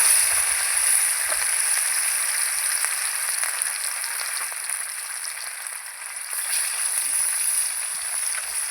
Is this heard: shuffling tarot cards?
no